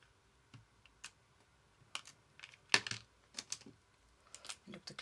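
A glue tape roller is run over small pieces of craft paper, giving a string of faint, scattered clicks and short scratchy bursts at an irregular pace, close and quiet, with no talk.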